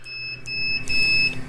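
A multimeter gives a steady electronic continuity beep, a thin high tone that sounds in two stretches with a short break between them, close and fairly clear, with no talk over it.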